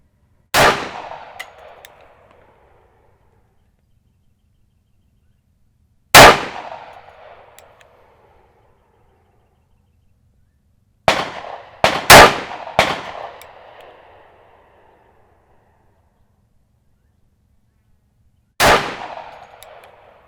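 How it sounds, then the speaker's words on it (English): Shots from a Colt Gold Cup National Match 1911 pistol at a shooting range, loud sharp reports with ringing decay, fired singly with long pauses and a quick cluster of three in the middle. "Here's the last 10 rounds I just fired off of the improvised bag"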